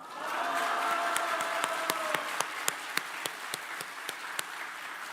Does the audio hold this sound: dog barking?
no